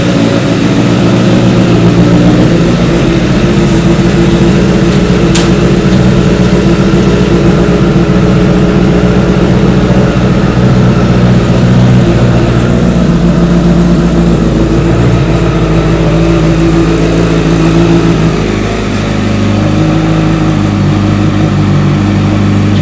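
A 2008–2016 Honda CBR1000RR Fireblade motorcycle engine runs at a steady idle after a service, a loud, close, continuous rumbling drone with faint mechanical grinding and one brief click partway through.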